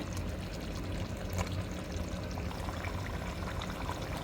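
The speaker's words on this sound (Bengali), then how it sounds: "আমি সামান্য কয়েক ফোঁটা একটু কেওড়া জল দিয়ে দিলাম, একটু ঘি দিয়ে দিলাম।" Kewra water and ghee poured into a pot of shahi mutton korma, a faint, steady liquid hiss running without pause.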